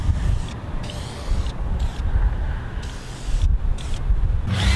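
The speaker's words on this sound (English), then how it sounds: "I'll finish it all up with a couple of coats of spray lacquer." Spray lacquer hissing from an aerosol can onto a wooden drill bit holder in a workshop, steady close bursts of spray broken by short pauses, with no talking.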